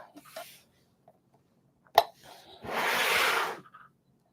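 Metal rivets being pressed into a handmade glasses case: one sharp close snap, then a longer gritty squeezing rasp, heard alone in a quiet room.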